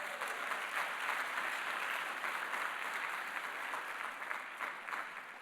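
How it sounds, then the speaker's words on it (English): Steady, dense applause from a large crowd, sustained at an even level throughout without a break. "Give Ken another round of applause"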